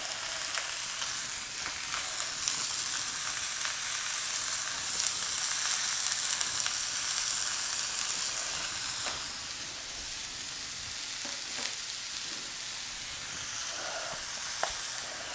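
Wagyu and bacon-wrapped hot dog searing and charring in a hot pan, a steady bright sizzle and crackle with occasional pops and scrapes, close and continuous with no talking.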